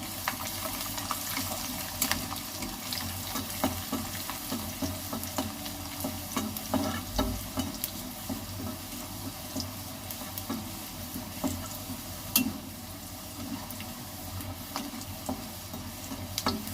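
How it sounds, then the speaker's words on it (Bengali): Minced garlic fries in a little oil in a wok, a steady sizzle with frequent stirring scrapes and clatters throughout. "কড়াতে অল্প তেল আছে, ওটা দিয়ে দেব কুচনো রসুন"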